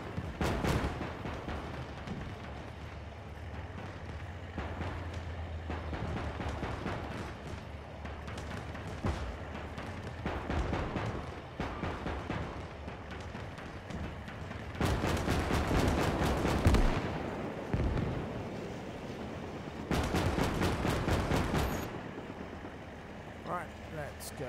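A tank autocannon firing in the video game Valour during a North Africa battle, rapid bursts of sharp repeated shots in several clusters, some long and loud, amid rumbling battle noise.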